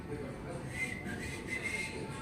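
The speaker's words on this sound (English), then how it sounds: "Whistling again, it's going on." A person whistling faintly in the background, a thin wavering tone that comes and goes beneath a steady ambient hiss, with murmured talk in the room.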